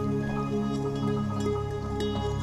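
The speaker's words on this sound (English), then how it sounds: "Can you hear the water?" Water drips steadily in soft, close droplets over a sustained musical drone, with no voices during the brief stretch.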